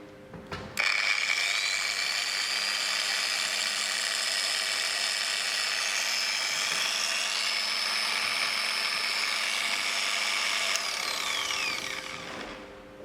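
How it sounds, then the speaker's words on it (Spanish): An orbital polisher runs with its pad rotating and oscillating at once. The motor whirs up after a click and holds a steady, loud, close whine for about ten seconds before winding down. "Entonces esto sería una pulidora orbital."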